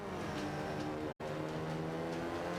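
A classic Mini engine drones steadily in a racing video game, a buzzy continuous hum with one brief cut to silence partway through.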